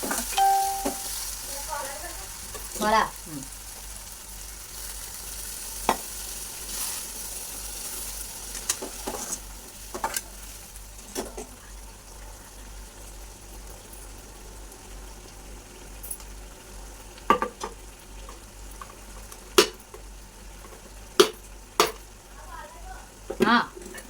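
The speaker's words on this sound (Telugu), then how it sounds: "కలుపుతున్నా గట్టిగా" Ridge gourd curry sizzles softly in a frying pan while being stirred, a low steady fry under scattered sharp clinks and scrapes of a utensil against the pan.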